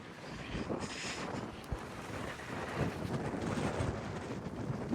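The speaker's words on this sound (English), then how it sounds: "So very windy, my cap has been blown away." Strong gusts buffet the microphone outdoors in a residential area lined with houses, a continuous rough rumble with surging bursts throughout, loud and close, no voices.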